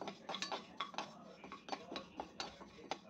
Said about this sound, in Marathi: पाव वाटी सालीसहित उडदाची डाळ भाजायला घ्यायची आहे